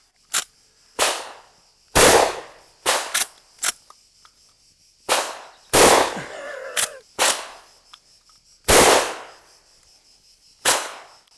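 Winchester 1887 lever-action shotgun fired outdoors, about a dozen sharp, loud reports spaced irregularly, each with a short decay, some closely paired, with quiet gaps between.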